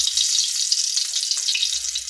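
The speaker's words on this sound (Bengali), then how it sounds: "তেলটা দিয়ে দিয়েছি, এবারে তেল গরম হয়ে গেছে, গোটা জিরা দিয়ে দিয়েছি, গোটা এলাচ" Whole cumin seeds and trimmed green cardamom pods sizzle and crackle in hot oil, a steady loud frying hiss with no talking.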